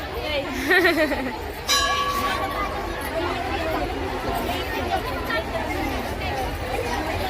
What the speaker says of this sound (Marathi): लय गर्दी आहे आज